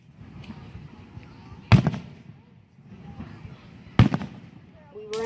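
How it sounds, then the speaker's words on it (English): Fireworks going off behind a group of people, two sharp booming bursts a couple of seconds apart with crackling tails, over low background noise and voices. "there was just some fireworks behind us"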